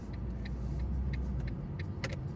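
A Ford Ka being driven, heard from inside the cabin as a steady, continuous low engine and road rumble with a few faint light clicks over it.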